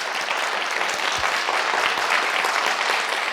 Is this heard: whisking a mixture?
no